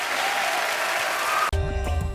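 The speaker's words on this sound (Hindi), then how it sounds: "जोरदार तालियां हो जाए एक बार" A studio audience on a TV comedy talk show claps loudly for about a second and a half, then the sound cuts abruptly into a burst of music.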